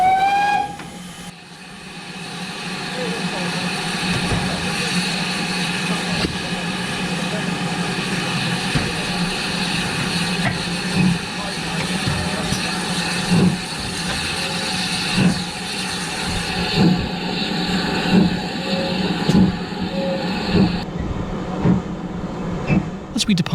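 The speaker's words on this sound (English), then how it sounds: "As we depart down the line, the driver and fireman prepare to put Dinmore Manor through its paces" Steam locomotive Dinmore Manor departing down a railway line: a steady loud hiss of steam with a whistle-like tone at the start, then rhythmic chuffing exhaust beats that grow more regular as it pulls away, with talk over it.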